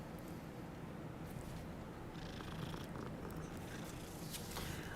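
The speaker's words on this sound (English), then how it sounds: "I love the fact that you can pet the cats in this game." A grey cat purring steadily while being petted in the game Hogwarts Legacy, a soft continuous rumbling purr, close and even throughout.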